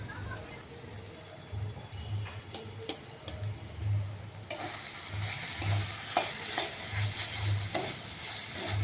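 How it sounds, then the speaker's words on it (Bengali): Red amaranth greens frying in a pan while a metal spatula stirs them, a close, continuous sizzle with rhythmic scraping and tapping, growing louder and busier in the second half. "শাগের জল ভাবটা যতক্ষণ না কমছে ততক্ষণ খুন্তি দিয়ে নাড়তে থাকবো"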